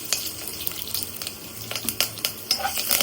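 Mustard seeds, chana dal, urad dal, curry leaves and garlic crackle and sizzle in hot oil up close, with sharp sputtering pops over a steady frying hiss.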